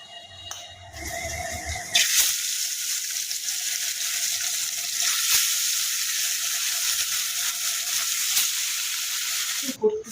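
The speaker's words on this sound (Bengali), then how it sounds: "এই কড়াই মতনে চাপ চাপ করে আবার কাঁকরোলটা ভাজি করবো" Teasel gourd hits hot oil and sizzles loudly and steadily in a wok, with a few clinks of a utensil.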